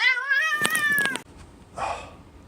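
A pet cat meows close by in a few drawn-out, rising and falling calls, followed by a short rustle.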